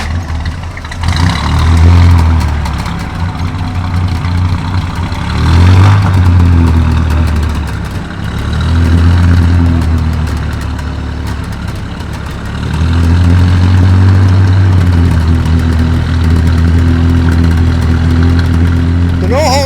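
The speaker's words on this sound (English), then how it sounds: "I won 2 Blue Bottle mufflers. Oh, nice. So of course, had to put them on, so it rumbles a little bit now." A 1954 Chevy Bel Air convertible's 6-cylinder engine rumbles low and steady through Blue Bottle mufflers, swelling and easing in slow waves at close range while people talk over it.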